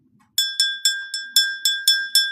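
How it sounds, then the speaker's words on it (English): A small bell is struck eight times in an even, unhurried rhythm, each strike a bright, clear ring that rises sharply and decays before the next, close and alone with no talking. "Leos, let's ring this bell for you."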